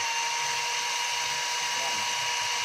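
A DeWalt D21710 half-inch power drill runs continuously with a steady, high whirring drone, close and unbroken for the whole stretch.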